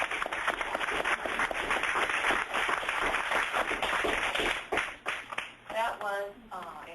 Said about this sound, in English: Let's have a nice round of applause for all of you